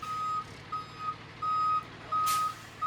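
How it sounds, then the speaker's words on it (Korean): A wood chip delivery truck arriving gives off a repeating electronic reversing beep in four even pulses, with a low engine rumble underneath and a brief hiss of air near the end. "정말 곧이어 트럭이 나타나죠."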